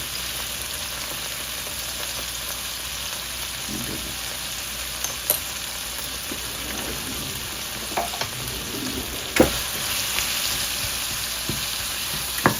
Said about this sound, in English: Stir it gently and add the lid.